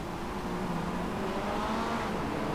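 Race car engines drone steadily in an iRacing simulator round of a Malaysian championship as one car overtakes another, a continuous loud blended roar with no pauses and no talk.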